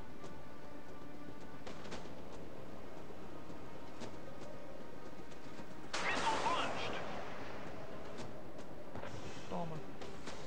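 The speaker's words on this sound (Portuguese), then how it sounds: "Olha que tiro bonito, cara." Naval gunfire in the World of Warships game: a single sharp, broad burst of cannon fire midway, with faint thumps later, over a quiet game background while someone speaks Portuguese.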